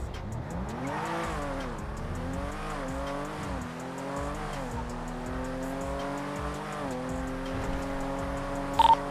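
A Corvette racing in a video game, its engine note climbing and dropping through repeated gear shifts at steady loudness, with faint tire squeal and no talk over it.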